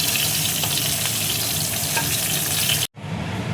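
Cauliflower florets frying in oil in a wok, a loud, dense, continuous sizzle with light stirring, cutting off abruptly near the end before a softer hiss resumes.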